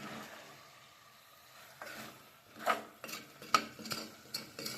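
Rice being mixed with masala, turmeric and salt for biryani in a pot, with soft scraping stirs and a few sharper clinks of a spoon against the vessel, quiet and close.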